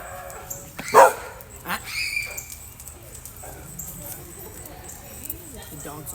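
Excited dogs bark and yip in a lively burst, one sharp loud bark followed by scattered yelps and whimpers close by, mixed with voices talking in the room.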